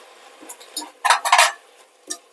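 Drumstick (moringa) leaves being stirred and fried in a pan, with short metallic scrapes and clinks of a spoon against the pan in uneven bursts, the loudest cluster near the middle, then one brief final scrape.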